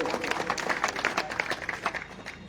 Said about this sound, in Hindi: उनका भी तालियां बजाकर स्वागत करें